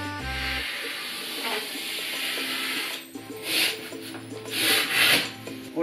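A utility knife drags slowly through a Styrofoam insulation board in several passes while fitting floor insulation, giving a steady rasping scrape that turns into squeakier, hissing bursts toward the end; a low hum sits underneath.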